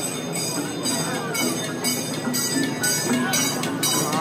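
An amusement park train at Busch Gardens Williamsburg rumbles along with a steady mechanical drone, faint rhythmic clatter and occasional squeaks, while people talk nearby.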